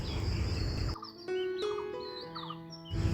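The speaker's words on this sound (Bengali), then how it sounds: "আশেপাশে অনেক পাখির সাউন্ড বিশেষ করে কোকিল ডাকতেছে মাঝে মাঝে" An Asian koel calls among other birds outside a balcony with potted plants, with a few short whistled chirps and rising notes at moderate distance over a steady background hiss.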